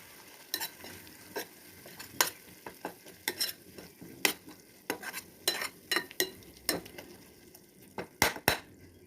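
Ground coconut paste is stirred into a prawn curry in a pan, with repeated sharp scraping strokes of a spoon against the metal over a soft sizzle, spaced irregularly and fairly close.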